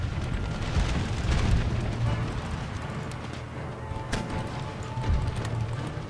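Mortar fire in an Empire Total War battle: a dense, continuous rumble of explosions and booms with low thuds swelling and fading over a constant busy battlefield din.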